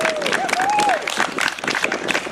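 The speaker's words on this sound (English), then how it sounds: "Let's give her a round of applause." Crowd at a tree lighting ceremony applauds the grand marshal: continuous clapping with a whistle or cheer rising at the start, then steady applause to the end.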